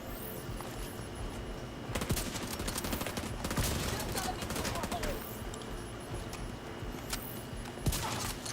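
Gunfire in The Division 2 video game, with bursts and scattered single shots and impacts at moderate volume over a busy game soundscape.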